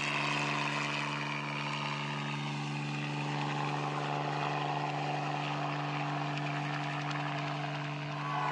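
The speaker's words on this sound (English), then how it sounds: "They have even arranged for a small aeroplane in order to film and take photos from above." A small propeller aeroplane drones overhead above Tasmanian countryside, giving a steady engine hum with a strong low tone. It stays fairly faint and constant throughout, with no talk.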